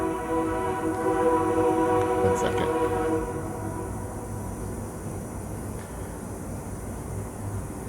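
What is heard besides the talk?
train passing across town with horn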